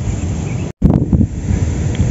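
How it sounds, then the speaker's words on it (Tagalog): Steady, loud wind buffets the microphone while carp fishing in Jaen, Nueva Ecija, a low roaring rumble with brief gusty bursts and a short dropout partway through. "Sobrang lakas kasi ng hangin."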